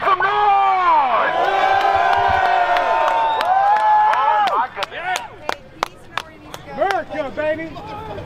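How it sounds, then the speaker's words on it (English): A large street-march crowd in Portland, Oregon cheers, whoops and shouts loudly and continuously, then breaks into scattered bursts of yelling and whistles as it thins out; voices call out throughout. "look at that crowd. Everybody make some noise!"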